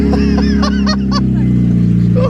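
A Honda Civic Type R EP3 facelift with no exhaust fitted, its engine turning over and catching into a loud, raw, steady idle, with short rising bursts and a faint honk-like tone, close by.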